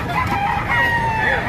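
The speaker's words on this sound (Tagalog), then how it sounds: "Napakaraming manok" A rooster crows amid a busy flock of clucking chickens at a crowded chicken market, steady and fairly close, with people murmuring in the background.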